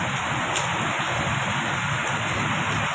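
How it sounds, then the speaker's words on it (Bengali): Rain falls outside with a steady, even hiss that fills the whole stretch, joined by a thin, constant high tone. "বাইরে হচ্ছে বৃষ্টি"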